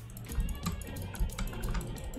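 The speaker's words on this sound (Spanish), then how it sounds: "El sonido del teclado y el mouse le ayuda mucho." A computer keyboard and mouse clicking rapidly during gameplay, a busy stream of sharp clacks and taps with other background sound running underneath.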